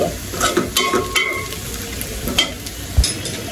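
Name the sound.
onions frying and being stirred in a pan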